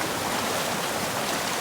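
A southern Oregon creek rushes steadily around a gold prospector standing mid-stream, a constant, full hiss of flowing water with no voices.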